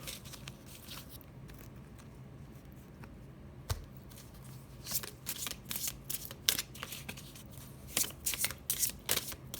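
Tarot cards shuffled by hand for a general reading, crisp riffling bursts and soft flicks recurring close up over a steady low hum, with no talking.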